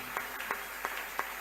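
A church congregation claps in a steady rhythm, four distinct claps spaced evenly across a brief moment, fairly close and moderate in level.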